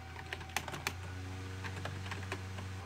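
Close, quiet typing on a computer keyboard, irregular clicks and a few sharper keystrokes over a steady low hum, no voices.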